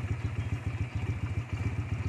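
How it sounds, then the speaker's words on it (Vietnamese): A Honda Rebel 170 motorcycle idles smoothly, its exhaust giving a steady, even low pulsing thump at a quick regular rhythm, close and moderately loud, with no talking. "Máy nổ rất là ấm nha, đã tay lắm, máy êm ru, bô nổ nha."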